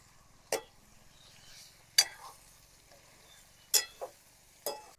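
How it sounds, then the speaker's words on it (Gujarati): Ripe cucumber (chibhda) curry being stirred in a pan, giving four sharp scraping clinks of a spoon against the pan over a faint sizzle, spaced about a second and a half apart. "થોડી વાર આપણે શાકને હલાવી રાખવાનું,"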